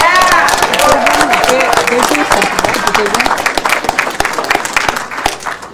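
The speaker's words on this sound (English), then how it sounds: "Let's give them a big round of applause." Loud applause from a crowd at a city council meeting fills the space, dense clapping continuing throughout, with voices and cheers mixed in nearby.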